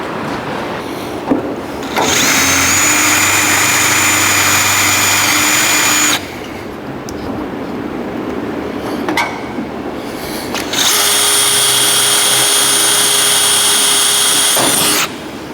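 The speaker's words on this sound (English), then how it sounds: "I think maybe a pre-drill might be a good idea." A power drill pre-drills holes into a 2014 Camaro dashboard being fitted into a 1970 El Camino, running loud and steady in two long bursts of about four seconds each, with a brief handling noise between them.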